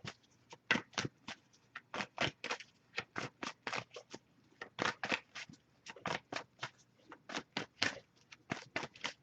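Crisp, rapid riffles of a card deck being shuffled, repeated in quick bursts close up, with no voices.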